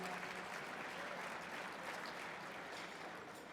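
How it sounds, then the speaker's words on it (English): Steady applause from a crowd at an awards dinner, dense clapping that holds at an even level throughout. "let's give her a round of applause."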